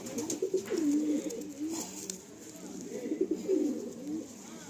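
Pigeon cooing, a Madrasi breed, in soft repeated low coos at moderate distance, with a faint hiss of background noise and no voices.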